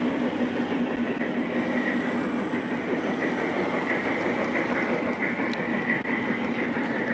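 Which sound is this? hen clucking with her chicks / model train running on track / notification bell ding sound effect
model train running on track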